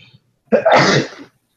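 A single loud, close sneeze bursting out after a short silence.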